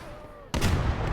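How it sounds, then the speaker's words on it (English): A shell from a Brummbär assault gun lands in the Gates of Hell: Ostfront video game: after a quiet half-second, one sudden loud boom breaks in, followed by sustained rumbling battle noise. "We're just gonna keep getting, unfortunately, shelled by this Brumbar, which is gonna really suck."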